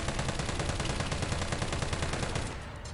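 Rapid automatic gunfire in the video game Resident Evil 3, a dense, loud, unbroken burst of shots that tapers off near the end.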